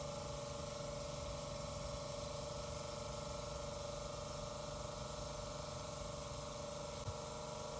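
A basic softwash roof-washing setup's sprayer pump primes with a steady, loud mechanical whine and hiss that runs unbroken throughout, with no talk over it.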